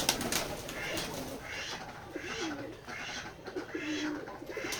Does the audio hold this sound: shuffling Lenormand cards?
no